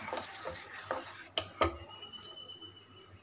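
Ground paste is stirred into buttermilk for mor kuzhambu, giving soft, sparse clinks and taps of a utensil against the vessel, faint and close, with quiet gaps between strokes.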